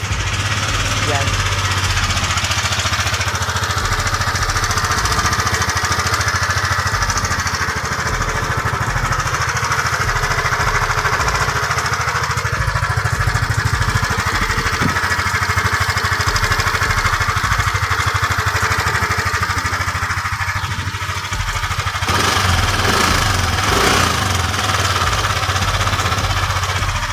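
A Yamaha Aerox 155 scooter engine with an abnormal internal fault runs steadily throughout with a rough, knocking mechanical chatter, close by, while someone talks over it.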